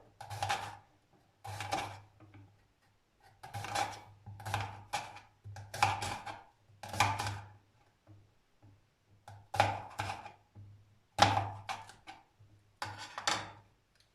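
A slicing gadget cuts through fruit in a series of crisp, clipped cuts that come in irregular clusters with short pauses between them, close and clear with no talking.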